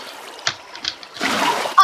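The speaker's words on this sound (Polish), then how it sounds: "Zobacz, wlewam się sobie bracie wodę." Water in Minecraft splashing and sloshing, with a few soft drips followed by a denser pouring wash near the end, heard close with no talking.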